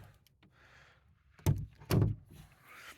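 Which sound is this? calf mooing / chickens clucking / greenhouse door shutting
greenhouse door shutting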